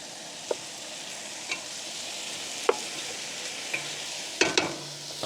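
Pork ribs browning in a hot pan over a camp stove outdoors, giving a faint steady sizzle with a few sharp clinks and scrapes of a utensil against the pan.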